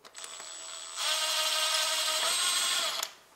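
A power tool loosens a 12mm bolt on a Honda Civic 1.8 engine near the water pump, with a brief whir, then a steady loud high-pitched drill whine for about two seconds before it stops.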